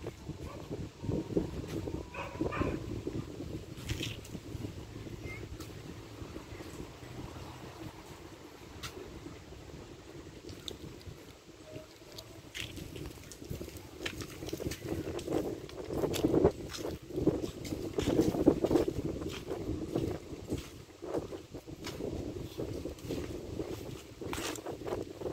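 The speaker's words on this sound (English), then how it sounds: "Cool wind breeze." Cool outdoor breeze buffeting the microphone in uneven gusts, a low rumbling wind noise that swells and fades, with faint movement sounds scattered through it.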